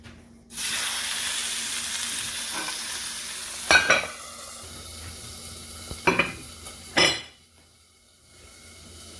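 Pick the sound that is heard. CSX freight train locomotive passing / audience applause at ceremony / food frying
food frying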